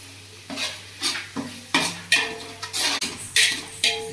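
Green paste of coriander, mint and green chilli fries in a pan, stirred with a utensil in repeated scraping strokes over a steady close sizzle, with occasional metal knocks against the pot.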